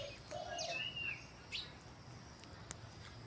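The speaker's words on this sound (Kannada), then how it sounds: "ಬೆಳಗ್ಗೆನೆಯ ಪಕ್ಷಿಗಳು ಎಷ್ಟು ಚೆನ್ನಾಗಿ ಸೌಂಡ್ ಮಾಡ್ತವೆ ನೋಡಿರಿ ಸ್ನೇಹಿತರೆ" Morning birds in a garden: a few faint chirps and whistled calls, including a rising sweep and short tweets, over quiet outdoor background hum.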